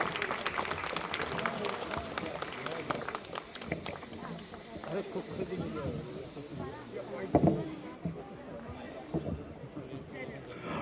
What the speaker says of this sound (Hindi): प्लीज़ एक जोरदार तालियां नरेश पाटिल सर के लिए